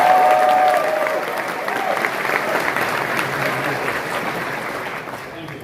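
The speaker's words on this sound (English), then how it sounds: "Give Liam a round of applause." Crowd applause at a political youth rally for a young man coming up to speak, loud sustained clapping that slowly tapers, with a voice speaking briefly at the start.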